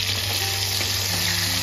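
Ginger and green chilli fry in a pan with a steady, close sizzle that holds even throughout, with faint clinks of stirring beneath it.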